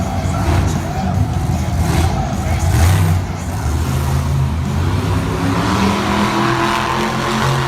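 A Monster Jam monster truck roars through a freestyle run at an arena in Lincoln, Nebraska, its engine revving loud and sustained as it spins into a donut, with commentary talking over the noise.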